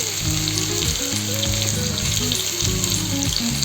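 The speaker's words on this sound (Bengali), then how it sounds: "এখন দিয়ে দিচ্ছি পেঁয়াজ কুচি।" Three medium chopped onions frying in hot oil with garlic, giving a loud, continuous close sizzle with bubbling crackle and some low clattering, without any voices.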